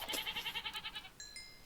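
A goat in the video game Minecraft bleats in a quick wavering, pulsing cry, then a short bright chime-like tone follows, fairly quiet and alone.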